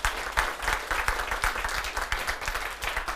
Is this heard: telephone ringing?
no